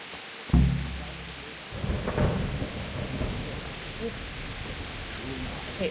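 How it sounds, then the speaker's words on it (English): Heavy rain pours in the Kingdom Come video game, a dense steady hiss with a deep thunder rumble rolling in near the start and a second rumble shortly after. "Pouring down with rain."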